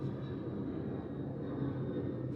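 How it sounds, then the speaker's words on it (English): A plane taking off overhead, a steady broadband engine roar with a faint high whine, continuous and fairly loud through the whole stretch with no talk. "look, another plane is taking off"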